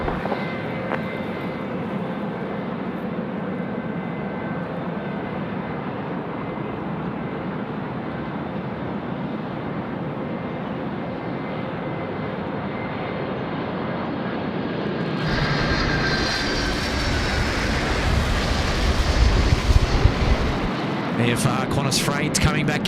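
A Qantas Freight aircraft lands at Sydney Airport in windy conditions, its distant engine roar steady at first, then a heavier low rumble and buffeting swell in later, with wind noise and talk throughout.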